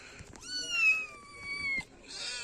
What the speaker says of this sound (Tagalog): So guys, ito na ang mga pusa namin.